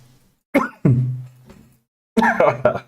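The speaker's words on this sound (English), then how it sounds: "I have a bit of a cough" A few close, abrupt coughs come in short bursts separated by pauses, with a cluster of rougher coughs near the end.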